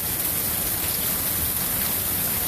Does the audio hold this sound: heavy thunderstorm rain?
yes